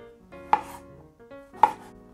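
A kitchen knife slicing a king oyster mushroom into thin slices on a board, two separate crisp chops about a second apart, close and clear with quiet between them.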